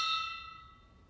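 A single gong struck at a Japanese imperial enthronement ceremony, a bright metallic ring with a clear onset that slowly decays and fades over about a second, heard alone.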